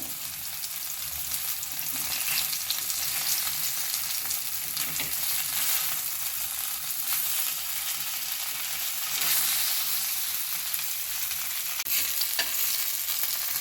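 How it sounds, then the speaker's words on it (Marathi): Fish fries in a pan for crispy fried fish, giving a loud, steady, close sizzle that crackles on without a break and with no voices. "अशा पद्धतीनं आपले सर्व मासे फ्राय झालेले आहे"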